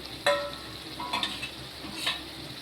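A spoon stirs food frying in a pan, giving a few brief scraping strokes over a faint sizzle, close by with no voices.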